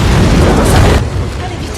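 A fire in an action film roars with a deep, loud boom, a dense rumbling blast that drops suddenly to a lower, steady burning rumble, with voices mixed in.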